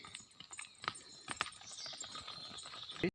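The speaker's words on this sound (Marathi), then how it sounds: "मागे पाहू शकता पाडा राहिला आहे धावत येतोय" Quick hoof clatter of a young buffalo calf running along a rural Konkan path near a village border, faint and irregular against soft outdoor background noise, with no talk.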